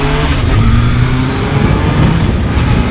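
A 2000 Kawasaki ZRX 1100 motorcycle is ridden with the engine droning steadily and loudly at close range, mixed with heavy wind rush for about three seconds.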